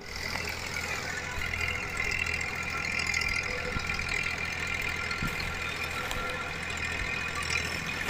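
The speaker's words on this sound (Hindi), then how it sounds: "इसका दम हम जो है हम आपको रोटावेटर पे दिखा रहे हैं" A 2011 Massey Ferguson 1035 DI tractor runs with a 7-foot rotavator attached, its diesel engine giving a steady, close mid-pitched drone with a faint knocking texture and occasional small clicks throughout.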